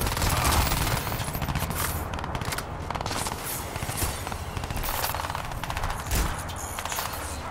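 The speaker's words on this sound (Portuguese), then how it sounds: "Eles estão dando tiro mesmo sem me ver" Dense, sustained enemy gunfire in the video game Crysis 2, with rapid automatic bursts and overlapping shots firing continuously and loudly throughout, no speech.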